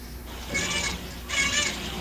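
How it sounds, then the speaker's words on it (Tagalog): Two soft, breathy meow-like cries, one after the other, faint against a steady background hiss. "Parang pusa yung narinig namin, hindi kambing eh."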